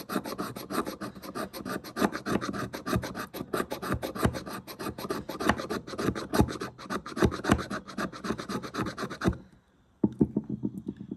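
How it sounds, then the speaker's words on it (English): Knife blade shaving bigger chunks off a homemade fire starter, a dense rasping scrape repeated in quick strokes for about nine seconds, then a pause and a few lighter scrapes. "I could shave off some bigger chunks like that, some bigger ones"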